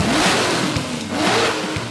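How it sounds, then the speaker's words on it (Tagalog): A cartoon race car engine revs hard and roars, its pitch sweeping up and down in repeated surges, loud and close with no talking. "Ngayon, Betsy, papaungulin ka namin na parang leon."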